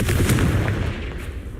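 A fire blasting spell goes off in a magic combat game's boss battle, a dense, loud burst of rumbling booms and crackling impacts that fills the moment and then slowly tapers off.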